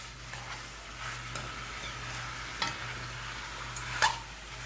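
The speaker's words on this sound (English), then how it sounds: "So this is gonna fry up for a while." Chicken feet and mixed meat frying in a pot, a steady close sizzle with a few stirring scrapes and clinks, no talking.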